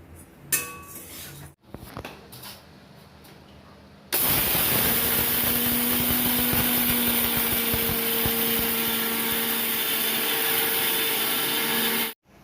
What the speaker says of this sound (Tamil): இந்த வறுத்ததை நான் வந்து மிக்சி கப்பில் போட்டு அரைச்சேன்